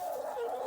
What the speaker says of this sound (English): All right, chickens.